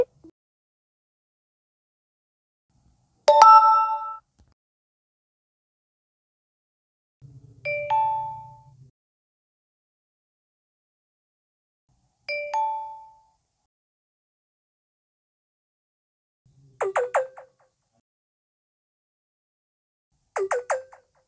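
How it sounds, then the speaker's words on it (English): Samsung phone fast charging alerts from One UI, five separate short chimes spaced a few seconds apart in silence, the first ones lower and the last two brighter and higher. "Both phones have different sound effects for fast charging."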